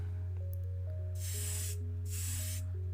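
Two short, close bursts of aerosol spray lay midnight gloss plum paint onto a Matchbox 1985 Renault 11 model car, over a steady low electrical hum and faint tonal background.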